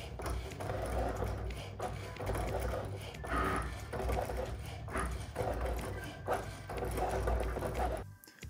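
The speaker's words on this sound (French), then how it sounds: "Je presse alors le bouton de lancement clignotant et c'est parti pour la découpe. La découpe prend quelques minutes." A Cricut machine cuts heat-transfer vinyl for a T-shirt, giving a steady mechanical whir and buzz with shifting motor pitches and small clicks, like a sewing machine or printer, running continuously close by for the whole stretch before stopping at the end.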